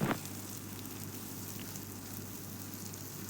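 Prawns frying in a pan of oil for a Kerala prawn roast, giving a steady, soft sizzle with a low hum beneath and no talk.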